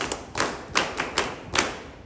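A group claps in a few loose bursts, uneven rounds of applause in a room rather than steady clapping.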